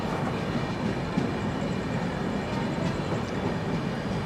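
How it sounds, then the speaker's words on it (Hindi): Trivandrum Rajdhani Express passing close by on the adjacent track during a crossing at Thrissur railway station, a steady loud rumble of wheels and coaches with faint clickety-clack, no voices. "अभी हमारी क्रॉसिंग हो रही है हज़रत निज़ामुद्दीन त्रिवेंद्रम राजधानी एक्सप्रेस के साथ"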